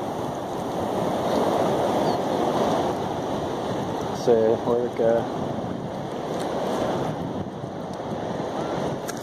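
Ocean waves wash continuously over a beach during a metal-detecting hunt, a broad surging hiss with wind buffeting the microphone, while someone speaks briefly partway through.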